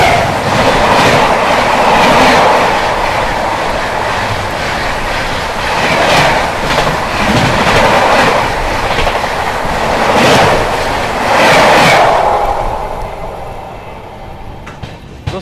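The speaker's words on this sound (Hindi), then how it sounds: "सामने से आती हुई Anand Vihar Kamakhya north east express." The oncoming Anand Vihar Kamakhya North East Express passes loudly and close, its wheels beating a repeated clickety-clack rhythm over rail joints before the roar fades away at the end.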